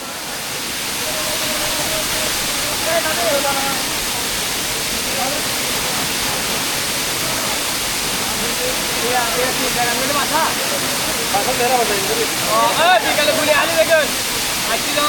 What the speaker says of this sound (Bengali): ঝর্নাতে তো মনে হয় চলে আসলাম